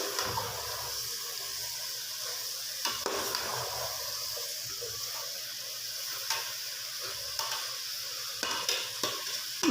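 Cauliflower and tomatoes are stirred in a frying pan for a fish curry, a steady sizzle punctuated by sharp, irregular spoon scrapes against the pan.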